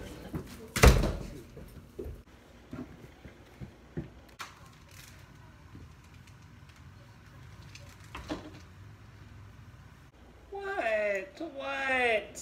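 A door bangs shut indoors with one loud, close slam near the start, followed by quiet room rustles and small knocks, then a voice speaks toward the end.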